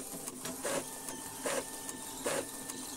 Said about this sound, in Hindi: देख सकते हैं तो फ़ोटो कॉपी भी स्टार्ट हो गया है